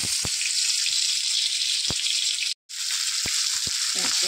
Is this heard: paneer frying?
yes